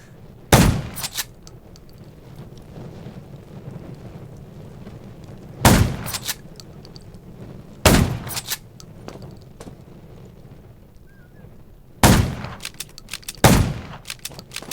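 Gunfire in the zombie survival game Undawn, set near a junkyard: five sharp, loud shots spaced irregularly over a low rumbling background, each with a brief ringing tail.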